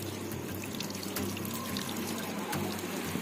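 Water pours from a homemade, unpressurized watering can in a steady, continuous splashing stream, close and moderately loud with no talking.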